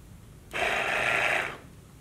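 The water pump motor from a Ford F53 Class A RV, running after repair, gives off a steady whirring hum for about a second that starts and stops abruptly against a quiet background.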